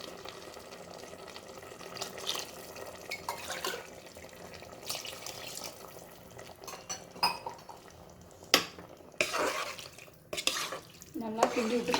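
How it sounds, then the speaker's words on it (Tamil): A spoon stirs vegetable biryani in a cooking pot, with close scraping, clinks and knocks of metal that come in irregular bursts and grow busier toward the end, while faint voices are heard in the background. "நல்லா கிண்டி விட்டுக்கிட்டுங்க."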